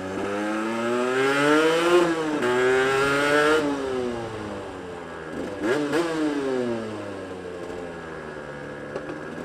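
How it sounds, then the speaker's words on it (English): A hire motorbike engine fitted with a 34mm race carburettor, running rich, revs repeatedly in neutral. Loud, close blips rise and fall in pitch, with several sharp throttle stabs and an uneven idle between them. "I think it's running rich. Just because of the way it's revving in neutral and stuff."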